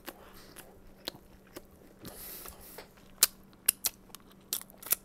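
Someone chews Hungry Howie's cheesy bread close to the mic, with soft moist mastication and a few sharp crisp bites and crunches, over a faint low hum.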